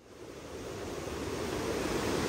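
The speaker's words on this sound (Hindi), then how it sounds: "इस पत्थर पे देखो ना कितनी तेज पानी जा रहा है" Fast river water rushing over stones near Gangotri in the mountains, a steady broad roar that swells slightly louder over the few seconds, with no voices.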